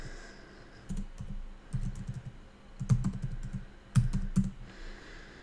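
Typing on a computer keyboard while filling in a real estate document template: quiet bursts of rapid key clicks in short runs with pauses between, close and alone.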